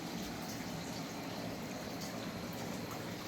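Pond water trickles and runs steadily as gunk and fish waste are loosened by hand and let flow in, a faint, continuous watery wash with no voices.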